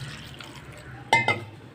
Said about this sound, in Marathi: याच्यामध्ये पाणी टाकून घेणार